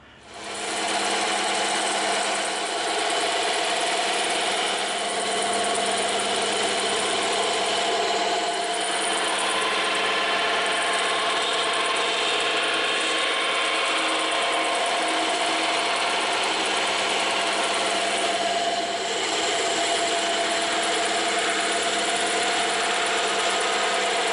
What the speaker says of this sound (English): we're going to use the bandsaw and the scroll saw to cut these intricate shapes out